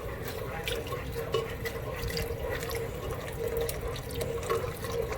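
Milk pouring steadily into a pot for a batch of Southern baked macaroni and cheese, a continuous close liquid stream heard alone for several seconds.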